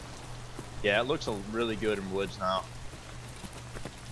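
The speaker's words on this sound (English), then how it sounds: "at least the rain seems to be covering up, you know, our noise" Rain falling across the Woods map in the video game Escape From Tarkov, a steady soft patter running under a man's close speech.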